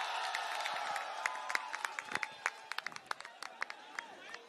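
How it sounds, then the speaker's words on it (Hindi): A crowd at an Aam Aadmi Party political rally applauds and cheers with loud, dense clapping and scattered sharp claps, while a voice speaks over the noise. "जोरदार तालियां हो जाए सर के लिए।"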